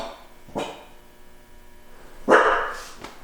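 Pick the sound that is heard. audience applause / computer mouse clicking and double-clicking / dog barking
dog barking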